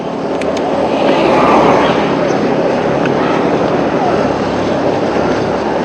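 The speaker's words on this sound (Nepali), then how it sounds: "हावाहुरी" Strong wind blows steadily past a cyclist riding alone uphill near a civil house and grocery shop, a loud broadband roar with gusty swells that buffets the microphone throughout.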